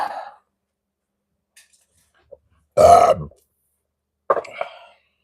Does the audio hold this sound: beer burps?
yes